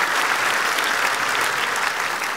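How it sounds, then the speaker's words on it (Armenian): An audience at a women's club gathering with children applauds loudly, a dense, even wash of clapping that holds steady from start to finish. "եկեք բարձր ծափարենք, շատ բարձր"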